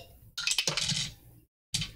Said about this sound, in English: I need you to roll the dice.